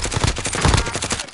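Rapid automatic gunfire in a video game, a fast burst of evenly spaced loud shots close by, filling the whole moment without any voices.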